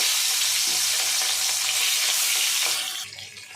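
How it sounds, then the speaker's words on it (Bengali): Hilsa fish frying in hot oil gives a loud, steady crackling sizzle up close that thins out and quiets near the end. "প্রথমেই আমি ইলিশ মাছ ভেজে নেব।"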